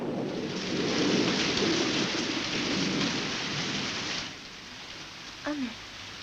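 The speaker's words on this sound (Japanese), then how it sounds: "雨" Heavy steady rain pours down with rolling thunder on a stormy night, loud and continuous before easing, then a brief voice and a faint rumble near the end.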